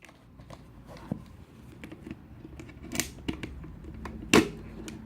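Scissors snip through a plastic bottle while a bird feeder is being made, giving a few sharp, close clicks and crunches spread across the stretch, with one louder cut near the end.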